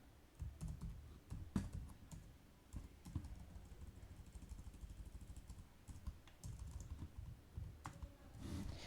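Someone types PHP code in VS Code on a computer keyboard, producing quiet, uneven bursts of key clicks close to the microphone, with no one talking.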